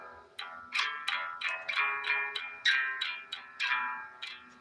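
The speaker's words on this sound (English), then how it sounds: "going to be a thing in the blues called the turnaround that sounds like this" A blues turnaround played on guitar: a quick run of about ten plucked notes in a steady rhythm, each sharply attacked and ringing briefly, played alone, close and clear with no talking.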